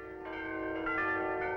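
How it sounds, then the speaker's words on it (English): Sustained ringing of castle bells in a cartoon, a steady resonant metallic tone swelling slightly in volume, heard alone at moderate level. "Listen, girls. The bells."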